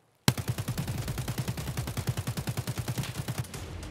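Rapid bursts of automatic gunfire in a steady, fast rhythm, loud and sustained for several seconds with no talking, from the video game Escape from Tarkov.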